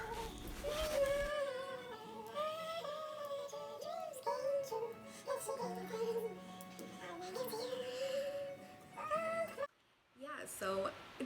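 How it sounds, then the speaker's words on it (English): A house cat meows repeatedly in the background of an indoor living room, fairly clear and drawn out over most of the stretch before a short silence near the end. "Don't mind my cat in the background."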